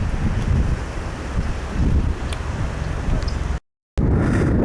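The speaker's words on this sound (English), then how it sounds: "The wind is really strong" Strong wind buffets the microphone on an open ocean beach on Cumberland Island, a loud continuous roaring rumble with gusts, cut off by a brief dropout near the end before resuming.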